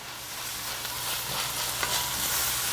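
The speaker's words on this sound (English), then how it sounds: "because I need to put these carrots in there quick. Mix, mix, mix." Carrots sizzle in a hot pot under a dense, steady frying hiss, with faint stirring movements running through it.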